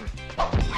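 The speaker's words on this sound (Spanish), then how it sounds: "Oh, este maldito perro chihuahua." A chihuahua in The Simpsons Wrestling video game lets out a quick series of high, yappy barks and yips, close and sharp, in under a second.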